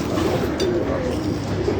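Pigeons cooing in a Karachi pigeon-keeping setting, steady low murmuring coos from several birds close by, continuous over a background hum.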